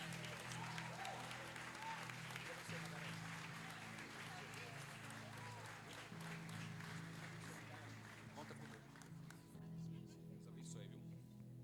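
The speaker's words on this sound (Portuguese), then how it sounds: "Uma salva de palmas ao Senhor." A church congregation claps in praise during a worship service, a sustained, steady wash of applause that fades gradually toward the end, with voices murmuring underneath.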